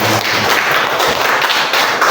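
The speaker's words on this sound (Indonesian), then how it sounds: "Tepuk tangan untuk kita semua." Applause from an audience at an Indonesian teachers' school-culture session, a steady dense wash of clapping filling the short stretch at fairly loud level with no voices over it.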